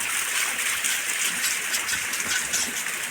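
Water tumbles steadily down a waterfall during a January trip to Anini, a dense, continuous rushing hiss with no pauses and no voices.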